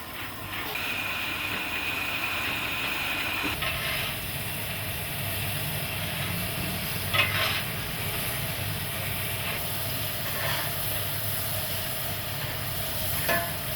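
A South African Class 24 steam locomotive stands at a water column, its steady hiss and rushing steam running continuously with occasional brief bursts and faint clanks.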